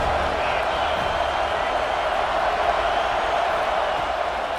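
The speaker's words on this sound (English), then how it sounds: "This crowd ready to make its presence known." Stadium crowd at a football game, a steady distant roar of cheering and chatter holding at an even level throughout.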